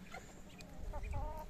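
Hens clucking softly nearby in a farmyard also holding geese and ducks, a few short calls scattered over a low background rumble, with one louder burst near the end.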